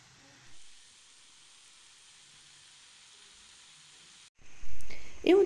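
Ground beef, coriander and chopped green olives with vermicelli and rice fry in a pan, a faint steady hiss that swells into a loud, crackling sizzle near the end.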